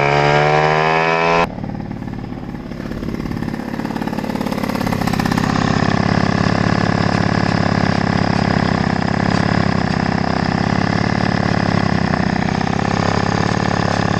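A tuned moped engine fitted with a Polini Athena MVT kit, with a belt drive, revs hard and then holds a loud, steady, buzzing high-rpm drone close to the microphone, after a short lower-pitched opening burst.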